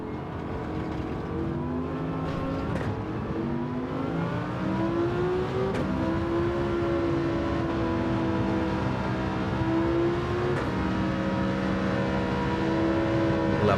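Alpine race car in a video game, steady engine drone with whirring harmonics that slowly rise and shift in pitch as it runs close by, continuous and fairly loud with no talk.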